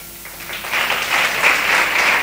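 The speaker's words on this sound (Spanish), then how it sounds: "no me merezco los aplausos" Audience applause at an institutional event marking the International Day Against Gender-Based Violence, starting faintly and swelling into a steady, sustained round of clapping from a seated crowd.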